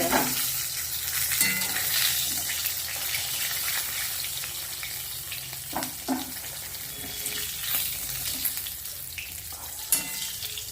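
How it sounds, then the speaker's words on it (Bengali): Steady sizzling of fish frying in hot oil, with occasional louder pops and clinks of a utensil, no voices. "এই দেখো মাছ ভাজা একদম হয়ে গেছে লাল লাল করে ভেজে নিয়েছি"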